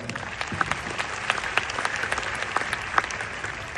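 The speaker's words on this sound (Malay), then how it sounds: "Satu tepukan kepada beliau." An audience claps steadily at a gathering in Malaysia, a dense, moderately loud patter of many hands with sharper individual claps standing out, continuing evenly for a few seconds.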